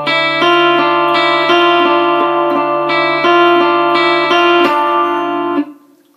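Electric guitar with effects and light distortion plays an intro riff, a steady rhythmic pattern of repeated ringing chords, loud and close, fading out at the end.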